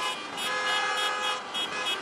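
Car horns honk repeatedly along a street protest convoy in Istanbul, drivers flying Turkish and Palestinian flags; dense overlapping toots blend with steady traffic noise throughout.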